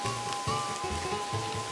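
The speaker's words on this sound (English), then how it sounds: "This rain seems to be getting worse." Steady rain patters without a break in a Mario video game scene, a soft, even wash of drops under a faint low rumble, with no talking.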